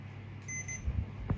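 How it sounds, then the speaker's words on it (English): A multimeter running a continuity test on pins during a Commodore 64 repair gives a short electronic beep, a brief steady tone followed by a few low knocks of handling. "So you can hear the beep beep."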